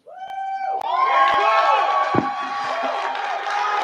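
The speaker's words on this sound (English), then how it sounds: "Y'all been booing me and clapping for him." A crowd at a boxing press conference roars, shouting and cheering loudly after a sharp slam, with sustained mixed yells and jeers that stay close and full.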